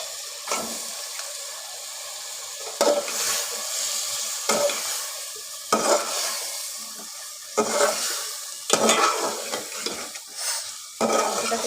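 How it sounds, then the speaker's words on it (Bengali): Chicken sautéed in blended spice paste in a pan for a bottle gourd curry, a low sizzle broken by repeated bursts of stirring and scraping every second or two, close up with no talking. "এটাকে কষিয়ে নিচ্ছি।"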